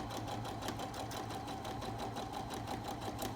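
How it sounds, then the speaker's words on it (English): Sewing machine stitching around a zipper on a fabric zipper bag, a close, loud and even rapid needle rhythm that runs continuously with no voices. "Sew all the way onto your zipper and work your way around the lines."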